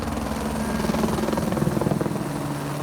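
A helicopter flies over alpine pastures, its rotor thumping in a fast, steady beat over a constant engine drone that grows slightly stronger and then eases.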